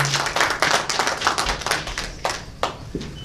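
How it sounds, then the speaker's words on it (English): A small group claps for an honoree at a Nigerian diaspora political forum in Chicago. The claps are close, quick and irregular, tapering off within a few seconds. "So please give a round of applause for Honorable Ajibola."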